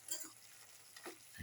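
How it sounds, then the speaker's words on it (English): Curry leaves are stirred into chicken frying in a kadai, giving a soft, close scrape and gentle sizzle, faint and brief. "Put in curry leaves, mix,"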